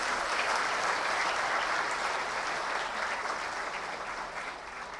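An audience at an annual day function gives a sustained round of applause after a vote of thanks, dense clapping that fades slightly toward the end.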